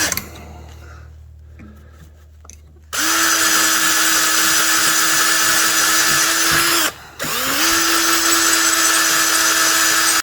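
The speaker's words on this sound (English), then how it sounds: "I'm just going to use a drill because I don't really have much else that will work. So this is aluminum" A power drill bores through aluminum while fitting a bracket to a Himiway electric cruiser bike. After a quiet start, a loud, steady high whine begins, cuts out briefly near the middle, then resumes at full strength.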